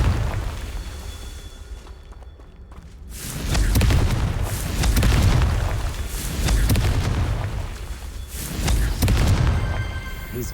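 Fiery Confringo blasting spell explosions in the Hogwarts Legacy game: a series of loud, booming blasts with rolling low rumble, swelling and fading several times in close succession.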